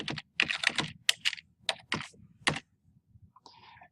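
Keys tapped on a computer keyboard while typing a title into an online submission form: close, quick bursts of clicks in uneven runs, then a short pause and a few soft taps, with no talk.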